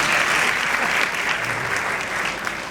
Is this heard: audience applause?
yes